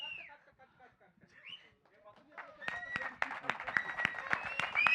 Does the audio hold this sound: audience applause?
yes